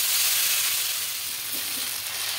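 Boiled taro stolons sizzling in hot oil as they are stirred in a pan for a coconut and prawn dish, with a steady, loud hissing sizzle and faint stirring knocks and no speech.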